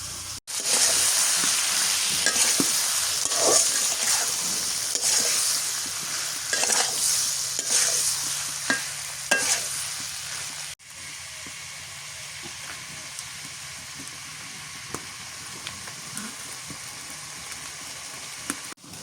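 Freshwater shrimp fry in a pan while being stirred, a loud steady sizzle with scraping strokes for about ten seconds, then a quieter hiss with occasional clinks.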